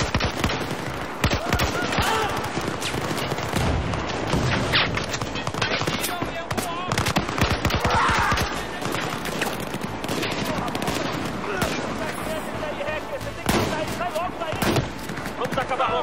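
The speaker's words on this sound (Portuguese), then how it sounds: "Da onde eu tô tomando tiro?" Dense, continuous gunfire in the Battlefield 4 campaign, with rapid automatic bursts and scattered explosive cracks filling the whole stretch at a loud, steady level, while a player speaks over the battle.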